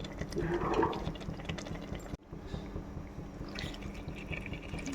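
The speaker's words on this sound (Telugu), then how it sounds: "కొద్దిగా వాటర్ పోసి లిడ్ పెట్టేస్తాను ఫ్రెండ్స్" A steady, rushing stream of water pours into a pressure cooker of tomato chicken curry, continuous and close, with a brief break partway through.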